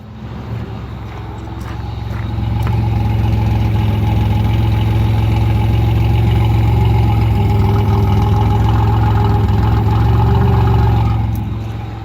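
A 1985 Pontiac Firebird idles with a steady, deep exhaust rumble recorded up close, continuous and even throughout with no talking.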